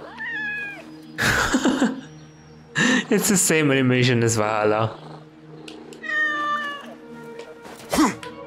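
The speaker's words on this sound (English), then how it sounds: "Oh, kitty!" A cat in the video game Assassin's Creed Mirage gives several drawn-out meows and caterwauls, close and loud, while a player talks over and between the calls.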